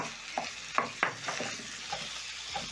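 Minced beef frying in a pan after soft onions, broken apart with a wooden spatula; soft, irregular scraping pushes sound over a quiet, continuous sizzle.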